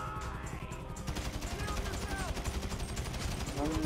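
Rapid automatic gunfire from a police shootout in Grand Theft Auto V, a dense rattling burst of shots that builds and stays loud, with a voice speaking briefly over it.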